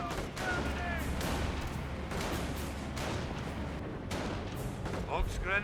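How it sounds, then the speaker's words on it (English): A 25-pounder artillery barrage in the World War II strategy game Company of Heroes, with dense, continuous booms and blasts rumbling steadily throughout and a voice talking over the din. "I hear an extra 25-pounder barrage over here"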